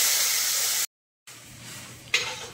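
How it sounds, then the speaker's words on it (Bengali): Chopped onion hits hot oil in a pan with a bright sizzling hiss, cut off by a brief silent gap, then a quieter frying crackle that swells into a sharp sizzle near the end. "এবার তেলের উপর দিয়ে দিলাম কুচনো পেঁয়াজ।"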